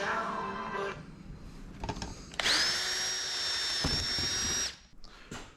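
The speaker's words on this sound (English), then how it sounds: "First thing to do is cut that bracket in half" A power tool cuts through a metal bracket in a garage workshop while fitting dual catch cans to a Genesis Coupe, a loud steady whine with a high ringing tone holding for a couple of seconds before stopping.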